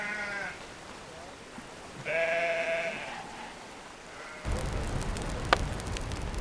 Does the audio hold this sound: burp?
no